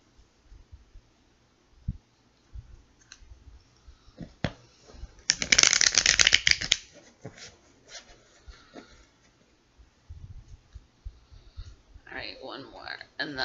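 Tarot cards being shuffled in a few quick riffling bursts, close by, separated by soft handling sounds and quiet pauses.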